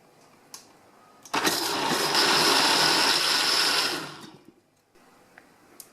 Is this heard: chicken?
no